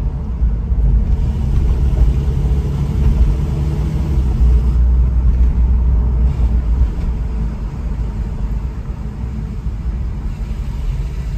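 A Porsche 911 driving downtown through city construction, heard from inside as a loud steady engine and road rumble with low thumps over bumps, continuous and close with no talk.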